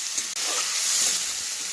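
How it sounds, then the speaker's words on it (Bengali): Achor chingri prawns frying lightly in a pan, giving a steady, close bright sizzle and hiss of oil with soft crackles and one brief click, with no voices. "মাছটা কিন্তু ঠিক এই পর্যায় পর্যন্তই ভাজা করতে হবে।"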